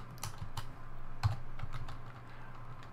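Rapid, uneven clicks of a computer keyboard fill the three seconds as Ruby code is typed, one slightly sharper keystroke near the middle; close and fairly quiet, with no voices.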